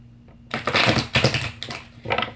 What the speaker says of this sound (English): I'm shuffling for Sagittarius.